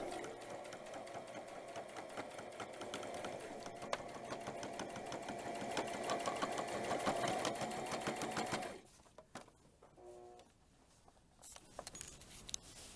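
A sewing machine runs continuously for several seconds, close and steady, stitching the side seams of a dirndl being resized bigger, then stops abruptly, leaving faint handling noises and a few short clicks.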